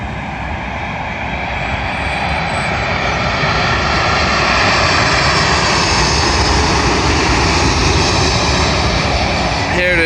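Jet airliner arriving from Detroit roars steadily and loudly on final approach to London Heathrow runway 27L, a broad continuous engine rumble filling the whole stretch with no letup.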